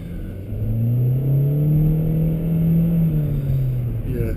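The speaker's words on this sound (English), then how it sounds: "Yeah, I mean, all the car does is rev." A 2022 Hyundai Elantra engine revs hard while accelerating. It gives a loud, close, continuous whine whose pitch climbs and then eases off without distinct gear shifts.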